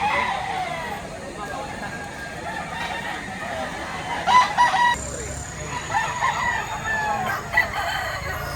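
A rooster at a gamecock yard in Lipa, Batangas crows a few times, loud and fairly close, while people talk over it and a vehicle sounds faintly in the background.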